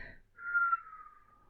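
A narrator's voice imitates a long, low whistle as a man stands at a damp, dripping cemetery hedge of hawthorn. The whistle is a single sustained tone that holds for about a second and slowly fades, alone and fairly quiet after a brief breath.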